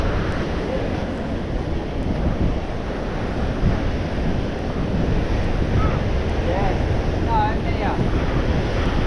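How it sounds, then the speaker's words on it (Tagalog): Steady roar of large ocean waves crashing continuously, with wind buffeting the microphone throughout; a faint distant voice briefly rises near the end. "Kaso ang laki ng alon."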